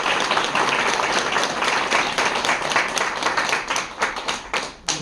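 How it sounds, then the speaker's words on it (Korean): A congregation at a year-end Catholic Mass in a Catholic centre auditorium applauds the priest. Loud, close, dense clapping continues for several seconds, then thins and tapers off at the end. "우리 신부님께 감사의 박수를"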